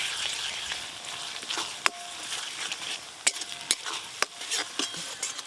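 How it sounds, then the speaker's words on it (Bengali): Chopped onion frying with ginger garlic paste on a village clay stove, a quiet steady sizzle with sharp clinks and scrapes of a spatula against the pan, close and with no talk. "পেঁয়াজ কুচিগুলো ভালো করে ভাজা হয়ে গেল, এবার আদা রসুন বাটা একসঙ্গেই দিয়ে দেব।"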